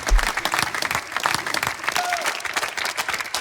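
Applause and cheering from a crowd gathered around a dance circle at a street dance battle, dense irregular clapping and shouts throughout, with voices mixed in.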